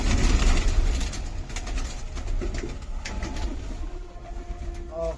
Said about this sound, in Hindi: 105 के आसपास कबूतर हैं।